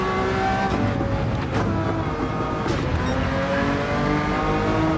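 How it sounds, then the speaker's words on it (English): Race car engine in the video game Gran Turismo 7, heard from a driving view: a loud, continuous roaring drone that holds steady throughout with slight shifts in pitch, with no voices. "Car sounds absolutely incredible"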